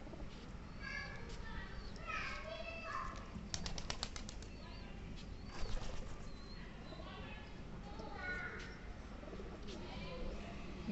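Pigeons returning to their coop at dusk, with repeated bursts of wing flapping and soft cooing close by, while a person talks over the birds throughout.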